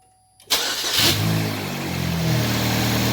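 A Chevrolet Cobalt engine with newly replaced timing chains cranks and catches, briefly revs, then settles into a steady, smooth idle close by.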